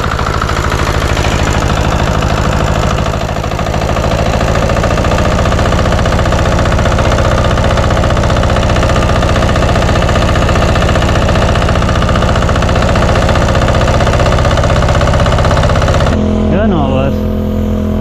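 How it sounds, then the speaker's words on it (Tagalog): A small farm sprayer engine runs steadily at a constant loud drone throughout, with a brief change in tone near the end. "Ayan, andar na yung makina natin."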